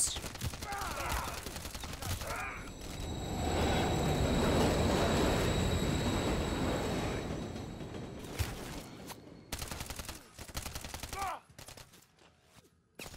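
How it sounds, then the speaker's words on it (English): Loud, rushing rumble of a subway train passing through tunnels in Call of Duty MW3, swelling for several seconds amid bursts of gunfire before and after, with brief voices. "I like how our battle just gets like interrupted by a train every so often."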